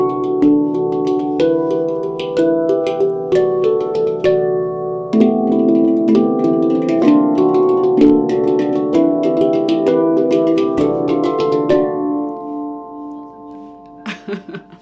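Two handpans played together, overlapping ringing metallic notes in a loose, busy rhythm that fades out near the end.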